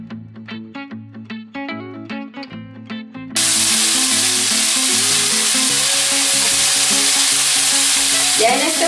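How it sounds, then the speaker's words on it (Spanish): Vegetables sautéing in vegetable oil in a clay pot: a soft melodic tone gives way at about three seconds to a loud, steady broadband sizzle of frying with light stirring, close and continuous, with no talking. "Le vamos a poner primero nuestras verduras para que se vayan salteando."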